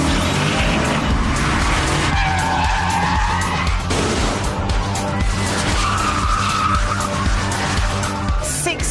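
A Vauxhall VXR8, a 6-litre rear-wheel drive super saloon, roars hard under acceleration while its tyres squeal and skid, loud and continuous engine noise filling the whole stretch.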